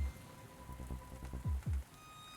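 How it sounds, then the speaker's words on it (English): Steady rain ambience layered from several mixed rain recordings in the game Sirenscape, a dense patter with two sudden low booming swells near the end, heard alone without voices. "Oh my god, this rain."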